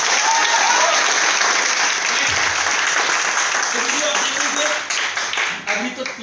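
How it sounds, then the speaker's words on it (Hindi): An audience claps loudly and steadily at a sales seminar, a dense wash of applause that keeps going for several seconds before thinning slightly near the end. "ताली तो बजने चाहिए"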